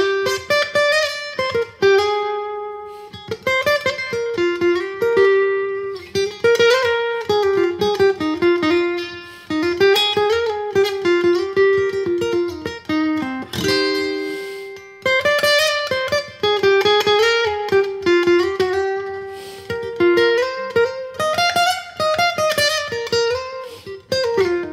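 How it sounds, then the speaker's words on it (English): Clean amplified sound of a BeaverCreek travel-size acoustic-electric guitar playing a melodic line of plucked notes and chords, bright and sustained, filling the space with a steady phrase-by-phrase rhythm. "I'm pretty curious to see what it sounds like on an amplifier, so let's try that right now"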